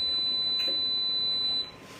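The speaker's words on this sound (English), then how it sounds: "my beeper on my oven incessantly beeps" A steady electronic tone from an oven timer beeper holds alone in a kitchen, continuous for most of the moment before cutting off near the end.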